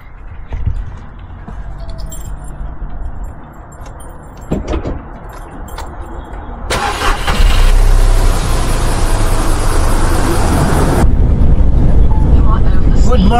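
A truck engine starts up and settles into a loud, steady idle to warm up on a cold morning, with clunks and rattles before it, and someone talks over it.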